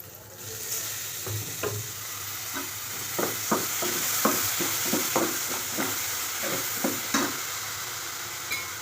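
Spices and a spoonful of water hitting hot oil, a loud steady hiss with a run of quick spatula scrapes and taps in the middle as the masala is stirred for a dal mash.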